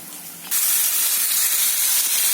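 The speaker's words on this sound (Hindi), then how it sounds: "ये ब्राउन राइस अब मैं पैन में ऐड कर दूँगी, अच्छी तरह से मिक्स कर दूँगी।" Boiled brown rice hits a hot pan and sets off a sudden loud hiss of steam and sizzle that holds steady, close up, after a quieter start.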